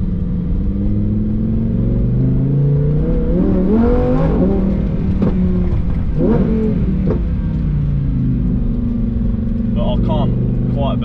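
Supercar engine revving hard through rising tones, with gear shifts marked by sharp pitch drops and bursts, loud and close inside the cabin, with talk over it.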